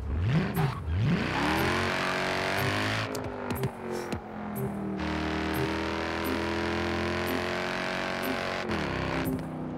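A Mercedes SLS AMG engine revs in the video game Forza Horizon 4, rising and falling in pitch through several throttle blips before settling into a steady, loud, close drone that continues throughout.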